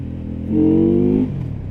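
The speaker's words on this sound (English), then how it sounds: "You want to listen to that engine purr" A Benda Chinchilla 500 learner-legal motorcycle engine revs once up to a steady, loud, rumbling pitch for under a second, then drops back to idle.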